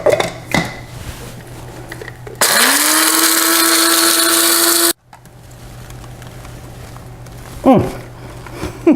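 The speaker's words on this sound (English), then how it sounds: "have a dedicated coffee grinder, and this is what I use to grind" A dedicated electric coffee grinder whirs through whole spices for a salty, spicy rub for slow-roasted pork, a loud, steady high whine lasting about two and a half seconds before cutting off abruptly, with quieter kitchen handling noises around it.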